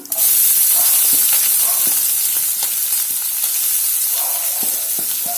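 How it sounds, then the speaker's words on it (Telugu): Seasoning spluttering and crackling in hot frying oil, a loud continuous sizzling hiss with scattered small pops throughout, no talking. "అవి చిటపట్లు ఆడుతున్నాయండి."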